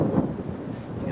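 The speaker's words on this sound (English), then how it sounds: "You can hear that wind." Strong wind at an Olympic Club golf course during a tournament, a steady low buffeting roar hitting the microphone, loud and continuous for the brief moment.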